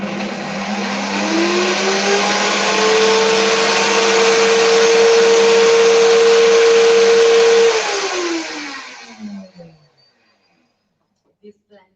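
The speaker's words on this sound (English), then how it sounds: "This blender is super powerful." An Optimum G2.6 blender runs loud and steady, chopping a banana peel mixture. The motor pitch climbs early, holds for several seconds, then winds down and stops, followed by near silence and a couple of faint clicks.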